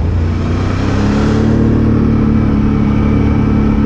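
A Can-Am Outlander XMR 570 ATV engine runs loud and close while riding in the Virginia mountains, a continuous steady drone with a slight rise in revs partway through.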